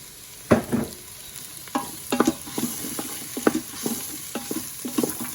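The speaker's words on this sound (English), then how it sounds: "So you want to cook off the flour a little bit" Flour-coated vegetables cooking in a pan, with a soft steady sizzle broken by repeated scraping stir strokes at an uneven rhythm, close and moderately loud.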